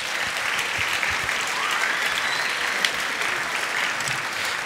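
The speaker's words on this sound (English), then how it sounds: "let's give the Flute Choir one more round of applause." Audience at a high school band Christmas concert applauding after the flute choir, a dense, steady wash of clapping from many hands that stays loud and even throughout.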